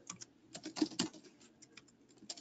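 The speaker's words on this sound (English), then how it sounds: "I can still carry on typing below." Typing on a computer keyboard, a close, quick irregular patter of key clicks with a few louder strokes, heard alone without talk.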